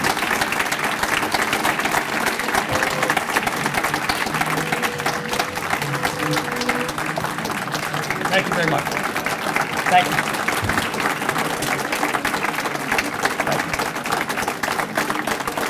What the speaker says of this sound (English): Please remain standing and continue applauding.